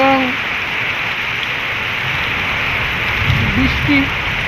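Rain falls steadily on an afternoon, a constant close wash of patter on surfaces. A few faint tonal sounds drift in briefly under the rain.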